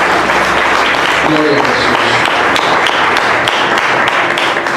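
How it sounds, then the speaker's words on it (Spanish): Church congregation applauding steadily throughout, a dense wash of clapping with a voice singing or speaking over it. "Denle un aplauso al Señor."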